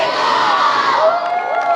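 A crowd of little league players at a season-opening parade yells and cheers together in one loud, sustained burst of young voices.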